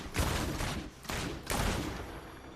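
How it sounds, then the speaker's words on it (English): Demon Hunter crossbow shots in Diablo Immortal: three sharp, loud bursts spaced about half a second apart, each with a crackling tail, over dense battle noise. "See, this is crossbow shot."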